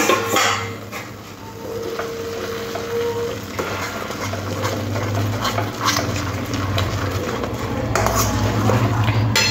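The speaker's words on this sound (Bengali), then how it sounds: "এবার ডালটাকে খুব ভালো করে মিশিয়ে নিতে হবে" A spoon works through boiled lentils (dal) in a metal pot, giving repeated soft clinks and thick wet squelching strokes near at hand, with a low steady hum underneath.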